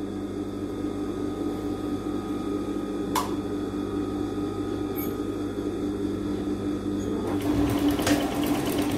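A sewing machine stitches a dress seam with a steady, even motor hum and rapid needle whir running throughout, with a brief sharper rattle near the end.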